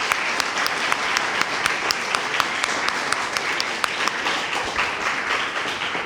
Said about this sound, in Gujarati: એકવાર જોરથી એના માટે તાળીઓ વગાડીએ.